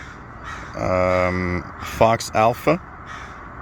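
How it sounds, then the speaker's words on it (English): A crow caws from somewhere in the trees, a sustained harsh call followed by three short loud caws, heard over someone speaking and faint shortwave radio hiss. "we hear a crow that's somewhere in the trees"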